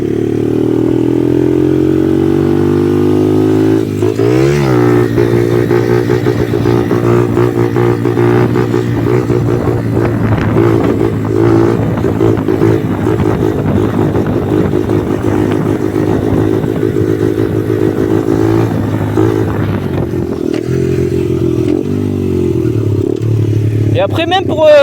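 Small Dax motorcycle engine during wheelie practice, a steady loud droning idle with harmonic hum, revving briefly around several moments and near the end, close up; speech is tagged but no clear talk stands out over the engine.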